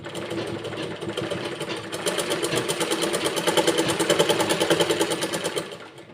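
A sewing machine runs steadily, stitching blouse fabric, its needle chattering in a fast, even rhythm that grows louder after the first couple of seconds before easing off near the end.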